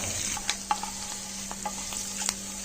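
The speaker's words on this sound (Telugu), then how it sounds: "పోపు అయిపోయింది కదండి, మనం పోపు ఇందులో వేసేసుకుందాం" Hot tempering mixed into curd rice for a festival offering, a soft steady sizzle with a few light clinks of a spoon against the vessel, close and fairly quiet.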